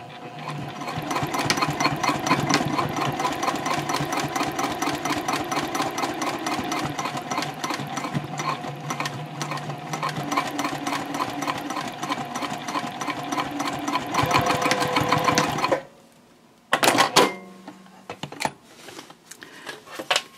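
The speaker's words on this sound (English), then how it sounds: "now you can just go ahead and stitch maybe 1/8 of an inch or 1/4 of an inch away from this edge right here" Sewing machine stitching a seam on a bowler bag close to the edge, a loud rapid buzzing run lasting about fifteen seconds, followed by quieter handling sounds and short clicks.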